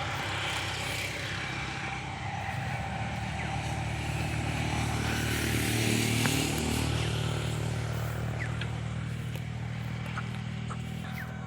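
A motorbike on a rural village road beside a pond rolls past outdoors, its steady engine drone swelling slightly mid-pass and fading, with no talk over it.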